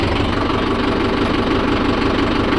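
A Mahindra Yuvo Tech+ 585 DI tractor runs its PTO in second gear, giving a loud, steady diesel drone with a constant mechanical throb throughout, close and with no talk.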